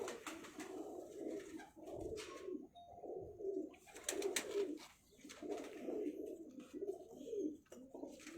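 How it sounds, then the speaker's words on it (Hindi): Pet pigeon cooing repeatedly in rhythmic, throaty bursts, fairly close, with a few faint chirps and light background noise between phrases. "ये है कबूतर, देखेंगे पर इसके"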